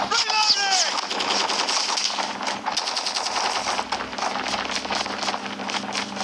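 Rapid automatic fire from an AK117 with a Lava Remix skin in a mobile shooter game, loud sustained bursts with crisp repeated shots, along with game effects and a brief voice at the start.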